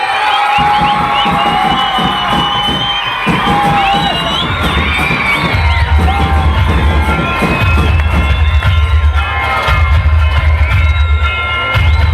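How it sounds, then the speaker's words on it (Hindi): A large crowd at a stage event for the opening of a new building and turf cheers, whoops and shouts loudly without pause, with children's voices prominent and a low rumble building underneath partway through. "जोरदार तालियां उसामा के लिए"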